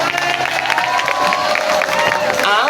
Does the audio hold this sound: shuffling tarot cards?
no